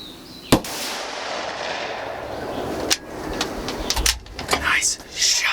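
A single loud gunshot from a deer hunting rifle rings out near the start, followed by a long decaying outdoor echo; a few soft rustles and clicks come later.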